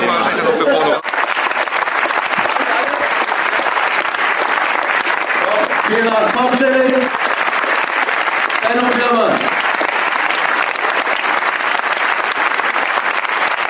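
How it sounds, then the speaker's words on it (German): Audience applause at a film premiere of "Pornorama" in Munich, a steady dense clapping from a large crowd lasting throughout, with brief voices and murmurs surfacing over it midway. "Und danke für euren Applaus"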